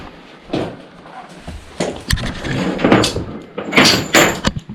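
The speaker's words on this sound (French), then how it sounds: "première porte de cellule ici" A heavy cell door in an abandoned prison scrapes and bangs several times at night, with loud metallic clanks and creaks close by and irregular knocks throughout.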